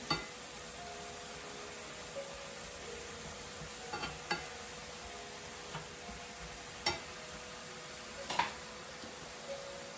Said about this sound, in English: My mushroom browning up nicely.